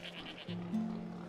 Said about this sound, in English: Okay, we got goats.